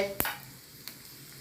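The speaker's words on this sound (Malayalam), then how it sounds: "എണ്ണ നല്ലപോലെ ചൂടായി. അപ്പോൾ വേണ്ട 1/2 സ്പൂണ് കടുകും 1 സ്പൂണ് ജീരകവും രണ്ടും കൂടെ ഒന്നിച്ചൊന്ന് മൂത്തോട്ടെ." Mustard seeds and cumin are dropped into hot oil, giving a soft frying sizzle with a sharp crackling pop and then a fainter second pop, close and brief, with no talk.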